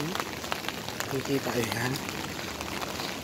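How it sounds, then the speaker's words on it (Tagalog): Heavy rain falling in Qatar, a dense steady patter across the whole stretch, with someone speaking briefly over it. "Malakas pa talaga ng ulan. Ilang araw na itong umuulan dito."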